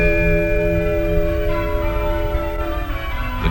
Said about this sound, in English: The church bells are softly tolling over meadow and thicket and fen